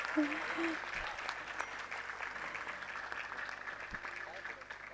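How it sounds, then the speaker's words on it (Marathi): Audience applauding for a cymbal player at a Marathi music show, a steady moderate clatter of clapping throughout while a voice talks over it. "जोरदार टाळ्या पुन्हा एकदा आमच्या टाळवादक रसिकाताई जोशी यांच्यासाठी घेणार आहेत"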